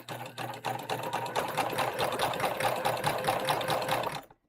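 A sewing machine stitches a Fieldstone tote bag seam in one fast, continuous run of rapid mechanical clatter, close and steady for about four seconds before it stops abruptly.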